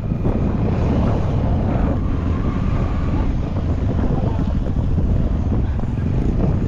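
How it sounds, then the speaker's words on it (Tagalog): Boats race on the open sea, their engines mixed with wind into a loud, unbroken roar of rushing noise that stays constant throughout. "na magkakarera ng bangka"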